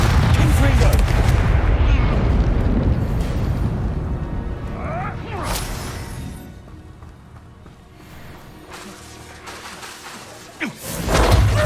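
Confringo blasting spell explosions in the video game Hogwarts Legacy, a dense run of loud booming blasts that fades into quieter rumble, with a few sharper bursts later and a final thump.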